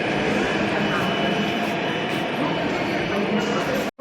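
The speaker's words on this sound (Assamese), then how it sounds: "এখন মেট্ৰ' গৈছেগৈ আৰু আমি নামিলোঁ" A metro train at Ameerpet station in Hyderabad rumbles on as a steady, loud mechanical roar, with a short cut near the end and no clear voices.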